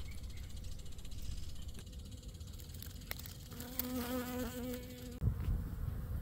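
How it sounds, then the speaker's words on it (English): Honeybees flying back to an apiary make a continuous buzzing, with one bee passing close partway through and a brief knock near the end. "the bees are in it, getting pollen, and flying back to the apiary"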